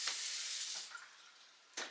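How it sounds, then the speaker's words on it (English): Water runs steadily from a tap fed by a gas on-demand water heater in a DIY off-grid outdoor kitchen, a close, even hiss that tapers off and then surges again at the end. "when I run the tap it fires up with gas and produces on-demand hot water"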